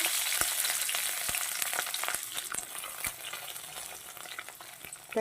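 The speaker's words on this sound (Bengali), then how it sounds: "ফোড়নটা আমার ভাজি হয়ে গেছে এবার কিছু রসুন দেব একটু বেশি করে দিচ্ছি রসুনটা" Garlic added to hot oil with a black cumin tempering, frying with a dense continuous sizzle and crackle, close and fairly loud, punctuated by sharp pops and stirring clicks throughout, no voices.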